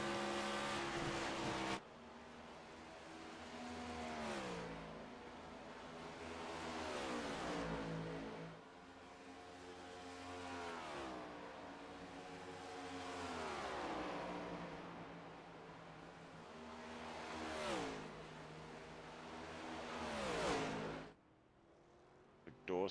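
Several race cars in a NASCAR video game roar past in repeated waves, engines revving up and dropping in pitch as each pass swells and fades, loud and continuous with no talk.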